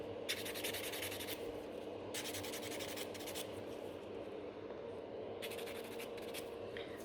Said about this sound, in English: I'm just filing in the middle, especially that this is extremely a sharp stuff